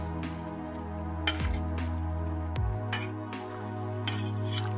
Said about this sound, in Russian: Так, закипело наше варенье.